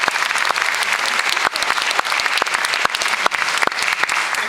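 An audience claps in sustained, dense applause at an indoor philanthropy spotlight event, a loud even patter with scattered sharp claps standing out, no speech over it.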